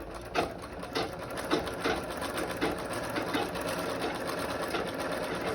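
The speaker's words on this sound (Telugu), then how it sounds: "ఇలా సైడ్స్ కుట్టుకుంటూ రావాలండి స్లోగా" A sewing machine stitches a fall onto a saree with a quick, regular mechanical clatter, close and steady throughout, each stitch cycle a light rhythmic tick over a soft motor hum.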